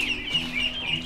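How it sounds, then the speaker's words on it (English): Chickens clucking inside a chicken coop, a steady stream of close, bright calls over a faint low hum, with no talking. "let's go in the chicken coop"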